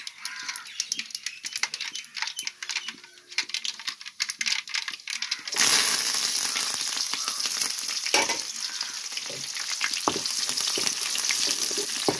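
Onion and green chillies hit hot oil in a pan and start to sizzle. The crackle jumps partway through to a loud, continuous frying hiss with scattered pops and stirring.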